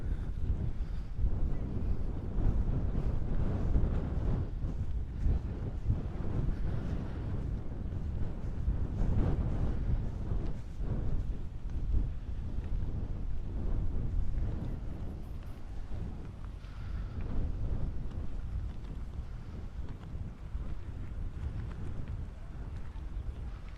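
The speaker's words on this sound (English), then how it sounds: "The wind is blowing in my ears." Steady wind buffets the microphone outdoors on a seaside drive through San Pedro, California, a constant low rumble with gusty swells that fill the whole stretch, no voices over it.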